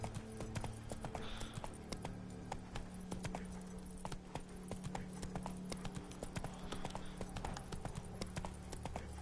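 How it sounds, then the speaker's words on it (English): Steady, rhythmic horse hoofbeats clip-clop continuously over a low game soundtrack drone in The Witcher 3: Wild Hunt, fairly close and even in pace. "Oh, there's my horse."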